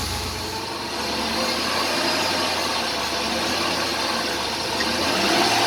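A Jeep engine with an NP247 Quadra-Trac transfer case runs under light throttle, giving a steady, close, continuous mechanical drone with a low rumble that holds at one level throughout.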